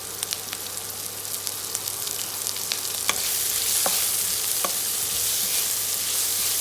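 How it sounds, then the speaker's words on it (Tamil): Onions sauté in a pan for ginger chicken, a steady close sizzle with crackling pops and occasional stirring scrapes, and the frying grows fuller and louder about halfway through, with no voices. "வெங்காயம் இப்படி இந்தளவுக்கு வதங்கினா போதும்"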